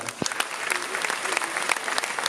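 A short burst of audience applause at a conference, steady scattered clapping from a room full of people.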